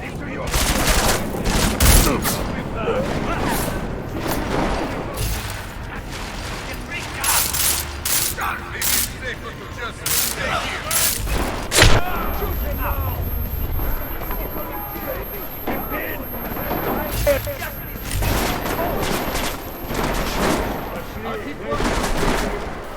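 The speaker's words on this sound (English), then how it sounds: "Ooh, this gun's powerful." Repeated bursts of heavy gunfire from a powerful weapon in the video game Deus Ex Mankind Divided, loud and sharp, mixed with mechanical clatter and a talking voice throughout.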